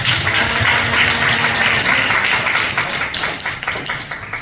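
Audience applause at a hair-salon leaders' training session, loud dense clapping that fills the room at first, then thins into scattered individual claps as it fades.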